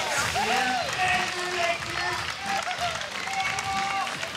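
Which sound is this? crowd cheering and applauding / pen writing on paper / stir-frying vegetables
crowd cheering and applauding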